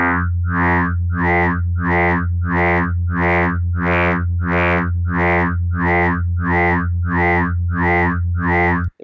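An FM synth patch built from sine waves pulses in a steady repeating pattern, about a dozen even wobbling notes with a warm, bell-like buzz, ending abruptly.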